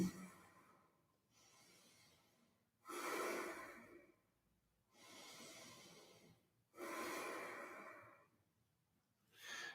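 Slow, audible breathing during a yoga pose, broad airy inhales and exhales alternating in long swells with quieter gaps between, close and fairly soft, with no talking.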